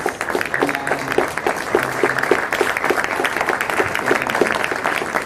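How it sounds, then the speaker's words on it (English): Audience applause at a climate event for an organising team, steady clapping from a crowd filling the whole stretch at moderate loudness, with no talk over it. "give a round of huge applause for the COI team"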